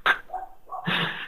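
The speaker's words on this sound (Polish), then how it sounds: "Wyłącz tego psa." A dog in a video game barks and yips, a sharp bark followed by softer whimpering yelps and a longer bark, close and fairly loud.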